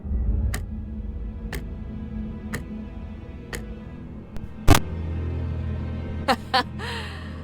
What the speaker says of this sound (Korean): 째깍거리는 소리만 들리네.